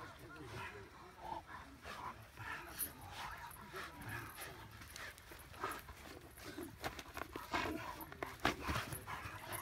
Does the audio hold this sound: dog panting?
yes